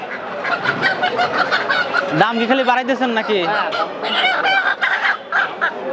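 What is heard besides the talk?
native chickens clucking at a market chicken shop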